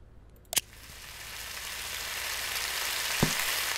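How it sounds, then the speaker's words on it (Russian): Food fries in a pan in the video game Cooking Simulator, a soft synthetic sizzle that swells gradually, with a click near the start and another a few seconds later. "И жарить еще 20 секунд."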